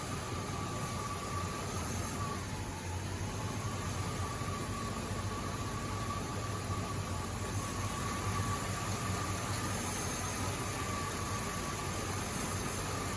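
A Chevy V8 engine runs on petroleum at a steady idle, a constant low rumble with a hissing wash of noise and a faint whine, even and unbroken throughout with no talking.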